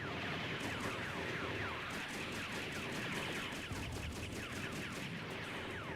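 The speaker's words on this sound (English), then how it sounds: "These missiles are what's really killing it." Missiles fire in a fast, repeating volley in the Robotech video game, a steady stream of sharp bursts and whooshes that carries on without a break for several seconds.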